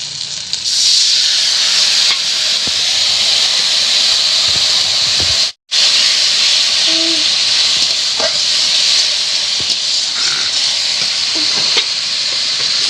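Water poured onto chilli and turmeric powder sautéing in a pan for meat ghugni, a loud, steady, steamy sizzle and hiss that briefly cuts out, then resumes with occasional stirring knocks.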